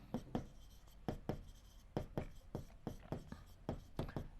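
Pen or chalk writing by hand during a Class 7 maths lesson, heard as a series of short scratchy strokes in an irregular rhythm, close and fairly quiet, with no talk.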